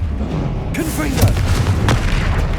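Confringo blasting spells going off in Hogwarts Legacy during a fight against a troll: a sharp booming burst with a ringing tail, then another blast, over low rumbling game noise and some speech.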